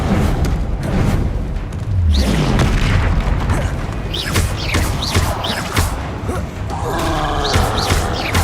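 Spells go off in rapid succession during Hogwarts Legacy combat, including Incendio fire, Glacius ice and Confringo blasts, producing loud booming bursts, whooshes and crackling impacts that overlap densely over rumbling game music and effects.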